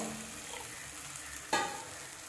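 Water is poured into a hot pan of curry pakoda, with a soft sizzle building into a sudden louder hiss as the water hits the pan.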